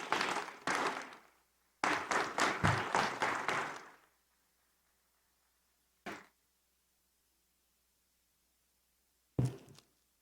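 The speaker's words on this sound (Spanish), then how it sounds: "Un aplauso, por favor." Conference audience clapping after a talk on agroindustry and healthy food: two short bursts of applause from a small group, then silence broken by a single isolated clap and one more near the end.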